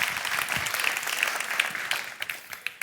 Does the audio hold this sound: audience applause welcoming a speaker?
yes